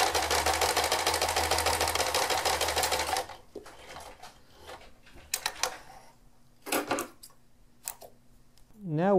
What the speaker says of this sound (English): let's just flip it around and sew along